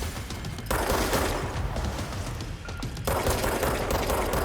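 Sustained automatic gunfire from the video game Control, a dense, loud barrage of rapid shots running nearly continuously, with a brief lull just before the three-second mark before the firing resumes.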